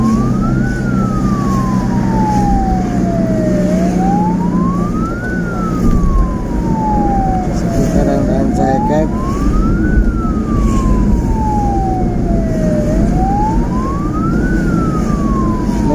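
A wailing ambulance siren sweeps slowly up and down in repeated cycles, loud and close over road and engine rumble, while the ambulance carries a sick patient from Garut to Antapani under motorcycle escort.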